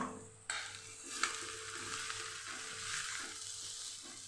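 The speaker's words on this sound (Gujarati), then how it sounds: "આદુ મરચાં અને લસણની પેસ્ટ પણ સાથે સાતડી લેશું અને ફાસ્ટ ગેસ ઉપર જ આપણાને સાતડવાનું છે" Onion sautéing with ginger, chilli and garlic paste in a pan on a high flame, giving a steady faint sizzle with a few soft stirring clinks, and no talking.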